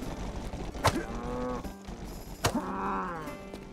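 Cattle mooing in a video game, two long lowing calls with clear harmonics, the first near the one-second mark and the second around two and a half seconds, over steady game background noise.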